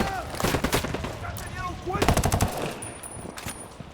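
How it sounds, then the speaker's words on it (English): Rapid automatic gunfire rattles in bursts during a firefight against cartel forces in the video game Ghost Recon Wildlands, loud and dense, with a shouted voice partly under the shots. "Opening fire on these."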